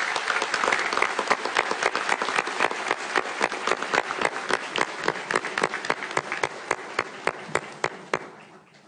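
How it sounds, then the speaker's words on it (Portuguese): Audience applause for a newly sworn-in female appellate judge at a Paraná state court ceremony, dense clapping that thins toward the end into a few separate claps. "Uma salva de palmas à nossa mais nova desembargadora."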